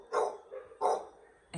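A pit bull barks twice in quick succession, fairly close, followed by the start of another bark, with a yard-like background and no clear talk.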